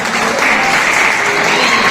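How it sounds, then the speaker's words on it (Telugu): Loud, dense applause from a gathered audience at a celebration honoring a priest, with sustained, even clapping and no gaps. "బ్రదర్స్ కూడా ఒకసారి చప్పట్లు గట్టి కొట్టాలి."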